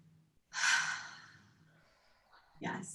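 During a breathing exercise in an opera rehearsal, a deep audible inhale swells and fades, then a second sharper breath follows, close and fairly soft.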